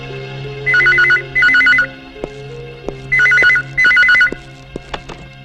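An old telephone bell rings in two double bursts, loud and close, each trilling warble separated by short pauses while soft background music and faint clicks continue underneath.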